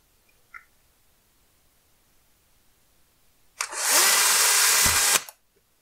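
A cordless screwdriver fitted with a small drill bit whirs loudly for under two seconds as it bores a hole into a plastic adapter, following a near-silent stretch with a faint click.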